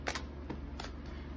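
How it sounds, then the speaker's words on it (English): Tarot cards are shuffled by hand at close range in a quiet room, with a few crisp riffling bursts separated by brief pauses. "I'm just going to shuffle more"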